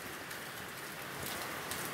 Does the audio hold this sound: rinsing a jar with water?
no